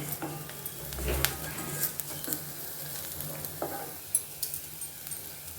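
Vegetable pieces being stir-fried in a pan for batani chaat, a steady sizzle with repeated scraping stirs and occasional spoon clinks against the pan, close and moderately loud, no talking.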